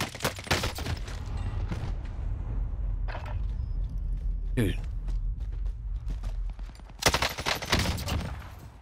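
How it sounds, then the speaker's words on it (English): Gunfire in Call of Duty: Warzone rattles in repeated rapid bursts, loud and close, with a voice talking over the shooting. "Stop shooting at me."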